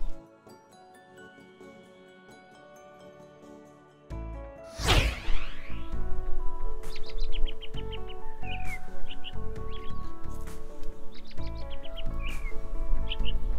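A European robin sings outdoors in spring, a series of high, thin warbling phrases repeated through the second half over steady low background noise, with a sharp whooshing burst just before the song begins.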